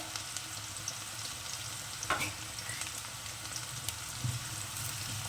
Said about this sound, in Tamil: ஆனியன் வந்து ஒரு மாதிரி பொன்னிறமாக வர்ற அளவுக்கு நாம் வறுத்துக்கணும்.